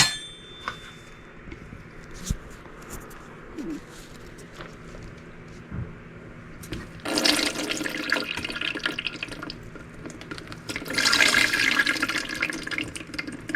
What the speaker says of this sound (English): And here we're going to go ahead and strain the mash. We want to keep the liquid.